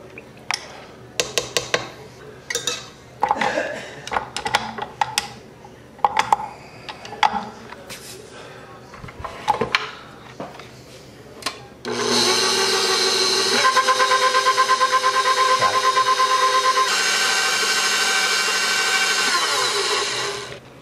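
Electric stand mixer beating pumpkin bread batter, starting abruptly after a stretch of scattered clinks and knocks, then running as a loud continuous whirring hum with a slight change in pitch partway through.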